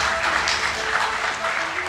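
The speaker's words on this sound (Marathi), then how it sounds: "टाळ्या वाजवायला काही हरकत नाही." Applause from a theatre audience at a Marathi stage play about a former Mumbai mayor, a dense, steady wash of many hands clapping that continues evenly for the whole stretch.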